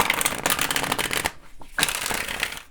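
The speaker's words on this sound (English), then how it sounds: "let's go ahead and get a shuffle and let's get the cards out" An Astro Matrix card deck is shuffled by hand in quick riffling bursts, a short pause in the middle, then more close crisp card rustling.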